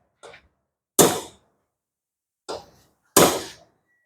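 Four sharp metallic hammer blows drive an old valve guide out of a Pajero 4D56 engine head resting on wood, struck in two pairs with short pauses and silence between.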